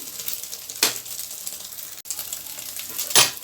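Eggs frying in oil in a pan for egg kulambu, a soft close crackle and sizzle with two brief louder spatters, no voices.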